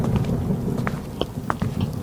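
Rain falls on a rainy night with a low rumble of thunder underneath and a few sharp drip-like ticks scattered over it. There is no speech.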